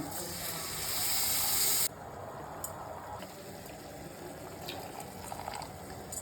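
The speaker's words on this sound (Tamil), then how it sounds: "இப்போ நான் குடம்புளி நான் சுடு தண்ணியில் போட்டு வச்சுருக்கேன், அதை ஊற்றி போகிறேன்." Soaked kudampuli (garcinia) water being poured into a fish curry, a loud steady hissing pour for about two seconds that cuts off, followed by faint splashes and clinks.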